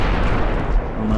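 A torpedo strikes light cruisers in the naval battle game Ultimate Admiral: Dreadnoughts, a loud, rumbling blast that fills the whole moment with dense low roar.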